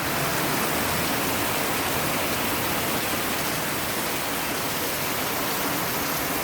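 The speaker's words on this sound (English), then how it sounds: "torrential downpour." A heavy, torrential downpour hisses steadily and densely, a constant loud wash of rain with no breaks.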